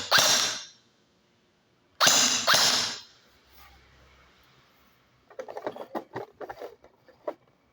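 ARP9 gel blaster firing, loud sharp bursts of shots near the start and again around two seconds, followed by quieter clicking and rattling mechanism sounds.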